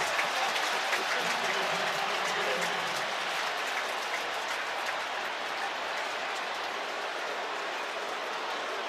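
A packed football stadium crowd at a Chiefs vs Ravens game sends up a steady, distant roar of noise and applause that stays at an even level throughout, with no clear voices standing out.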